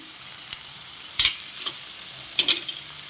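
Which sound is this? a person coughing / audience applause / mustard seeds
mustard seeds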